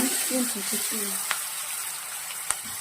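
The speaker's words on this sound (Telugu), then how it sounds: "ఇప్పుడు దీంట్లో కొంచెం అల్లం వెల్లుల్లి పేస్ట్ వేసుకొని దీన్ని బాగా ఎర్రగా అయ్యే వరకు వేపుకుందాం" Ginger garlic paste fries in a pan for a chicken curry, giving a soft, constant sizzle with a few faint clicks and ticks, while a voice talks briefly at the start.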